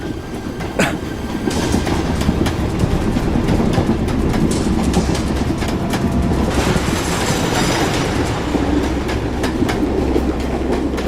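A moving passenger train rolls on steadily, with a loud, continuous rumble and rhythmic clickety-clack of wheels over rail joints throughout, and no voices.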